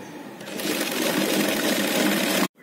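A sewing machine stitches the lining and main cloth of an umbrella frock together in one continuous fast whirring run, close and steady, stopping abruptly near the end.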